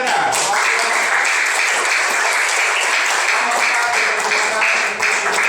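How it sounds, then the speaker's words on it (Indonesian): Applause from a classroom group after a discussion presentation, dense and steady throughout, with voices mixed into the clapping. "Beri tepuk tangan yang keras."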